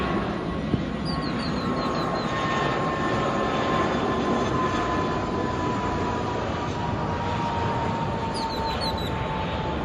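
An Air India Express jet arriving from Muscat roars steadily as it lands at Calicut airport, a loud, continuous broadband engine rush with a faint whining tone throughout.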